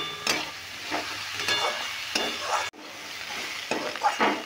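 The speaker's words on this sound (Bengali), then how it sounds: "নুন আর হলুদটা দিয়েও ভালো করে নেড়ে ভেজে নেব।" Sabudana being stir-fried with salt and turmeric in a hot pan, a steady sizzle broken by repeated scraping strokes of a spatula, close and clear with no talk.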